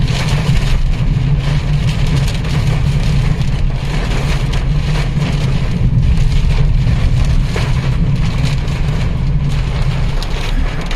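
Rain falling outdoors in rural Uttar Pradesh during a storm, a loud, dense, continuous roar with steady low rumble and no talk.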